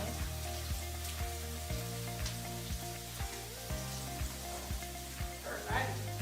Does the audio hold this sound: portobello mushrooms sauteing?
yes